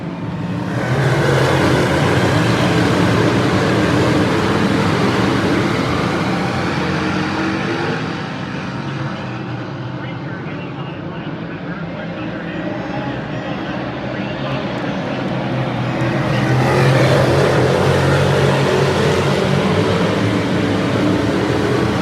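Modified race cars roar past on the Grandview track as one loud, drawn-out wave of engine noise that fades and then swells again. A commentator talks over it.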